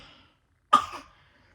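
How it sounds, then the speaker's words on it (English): A baby gives a single sharp cough after a moment of quiet, followed by a short gagging rasp that fades away. "He literally smiles after he coughs and like gags and chokes."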